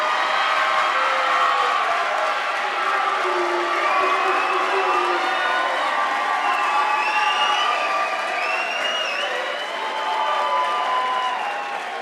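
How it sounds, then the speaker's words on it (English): A crowd at a youth sports awards ceremony cheers and applauds for the head and assistant coaches, loud sustained clapping mixed with high-pitched shouts, whoops and children's voices. "You deserve a wonderful, rousing cheer."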